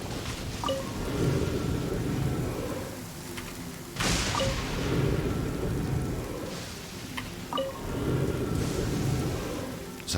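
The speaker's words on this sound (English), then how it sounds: "It's quite noisy over here with all the electricity, lightning." Thunder and lightning in a video game, with continuous rain-like static and sharp electric cracks repeating about every four seconds, followed by rolling rumbles and no speech.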